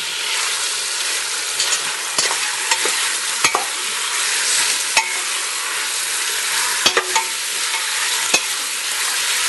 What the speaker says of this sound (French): on va faire dorer les morceaux